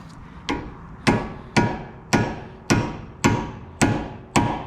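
A hammer strikes a chisel eight times in a steady rhythm, bending the lock tab of a CV axle nut into its groove on a Mazda 3. The metallic taps are close and loud, each ringing briefly.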